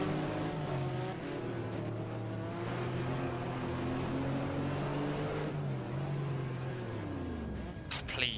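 A race car engine in a racing video game at a 500 km Estoril FIA GT round revs high, its pitch climbing and dropping in rising harmonic sweeps, loud and close, with a brief clatter at the end.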